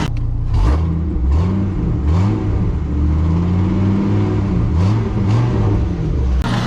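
A 2001 Dodge Ram 2500 with an 8.0L V10 Magnum engine idling after valve cover work, a loud, close, steady low rumble with faint whirring and a slight rise in pitch partway through.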